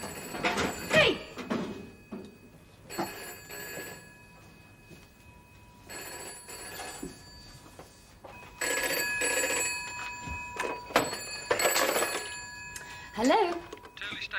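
An old-style telephone bell rings in repeated double bursts separated by pauses, fairly loud in a quiet room, with a few spoken lines between the rings.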